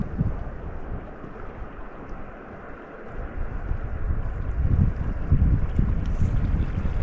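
Wind gusts across a raft drifting on the John Day River, a steady rumbling buffet that swells louder toward the end, with faint water movement beneath.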